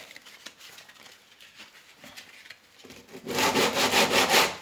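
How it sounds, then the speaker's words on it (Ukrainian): Coarse 60-grit sandpaper on a hand sanding block rubbed over a car bumper, a few light scattered strokes at first, then a loud rapid back-and-forth scraping rhythm close to the microphone. "Отака в мене штучка є. Ставиться наждачка."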